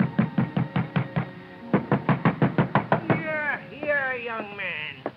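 Loud, heavy pounding on a door in a radio drama, two rapid bursts of about eight blows each, followed by someone talking.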